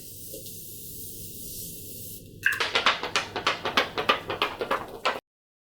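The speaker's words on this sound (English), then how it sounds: "I'm gonna go ahead and spray my face with the Morphe setting spray" A series of about a dozen short, sharp bursts of Morphe setting spray misted onto a face in quick rhythm, close up, after a stretch of quiet background hum.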